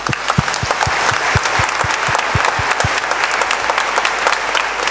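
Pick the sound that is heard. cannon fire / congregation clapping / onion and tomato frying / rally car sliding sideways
congregation clapping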